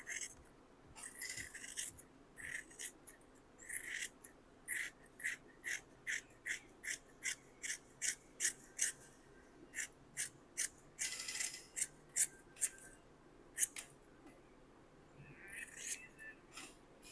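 Repeated short scraping snips as a tool cuts across the fiberglass bottom of a 1996 Bumble Bee bass boat, rhythmic strokes about every half second, fairly close and alone.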